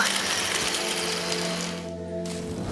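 A drill device whirs and grinds mechanically in the video game Tales of Graces f, a steady ratcheting, gear-like rattle with a sustained hum running loud and close for the whole stretch.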